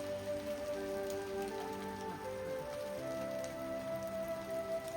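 Monsoon rain falling in Rishikesh on the steps of a multi-storey temple, a steady close patter on surfaces beneath a faint hum of background tones.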